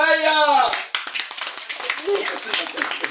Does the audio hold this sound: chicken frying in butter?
no